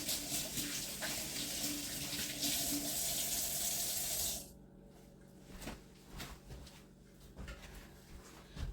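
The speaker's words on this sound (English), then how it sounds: "Wash my hands." Running tap water splashes into a sink as hands are washed, a steady close rush for about four seconds, then the flow stops and only faint drips and small handling sounds remain.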